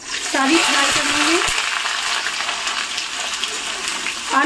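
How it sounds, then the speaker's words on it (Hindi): Potatoes sizzle loudly and steadily in smoking-hot oil in a kadhai, a dense continuous crackling fry with occasional faint clinks, no speech. "अब हम जो ये आलू हैं इसी में हम सारी फ्राई कर लेंगे"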